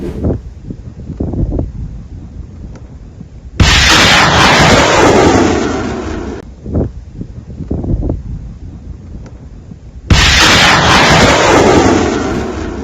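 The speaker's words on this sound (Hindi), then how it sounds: "उधर रशिया के ऊपर यूक्रेन खतरनाक हिमरास मिसाइल दागता हुआ नजर आ रहा है।" Ukrainian HIMARS rocket launches toward Russia in news footage: two loud, sustained roaring blasts, each lasting several seconds, with windy rumble and softer thuds between them.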